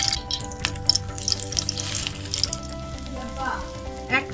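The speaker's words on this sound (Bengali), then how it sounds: "এখন আমরা ডিমে পাউরুটিটা ভালো মতো চুবিয়ে" Egg-dipped bread slices frying in hot oil in a frying pan, giving a steady close sizzle with small crackles and a few clinks, no voice over it.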